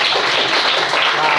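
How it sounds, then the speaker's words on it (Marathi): A classroom of schoolchildren bursts into loud, dense clapping for a classmate, a continuous wash of many hands close by. "जोरदार टाळ्या"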